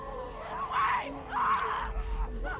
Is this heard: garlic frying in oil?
no